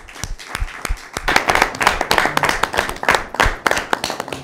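An audience applauds at a Christmas mushaira poetry gathering, with sharp, uneven hand claps of varying loudness carrying on steadily throughout.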